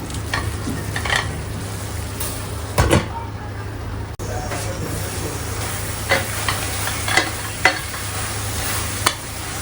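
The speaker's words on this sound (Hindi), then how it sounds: "और अब मसालों को बहुत अच्छे से भून लेंगे" Spices stirred and roasted in a pan for a homemade Indian gravy, with a steady low sizzle and repeated scraping clicks of a spoon against the pan, close by and moderately loud throughout.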